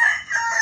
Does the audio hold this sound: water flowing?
no